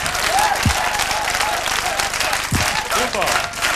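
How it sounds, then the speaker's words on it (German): A television studio audience at a 1990–91 German comedy show applauds a performer, loud continuous clapping with voices and brief whoops rising over it. "Ein Riesenapplaus"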